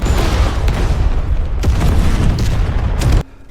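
A sustained, loud roaring blast as an alien robot fires on a tower in a film, with rumbling low end and a few sharp cracks, cutting off abruptly near the end.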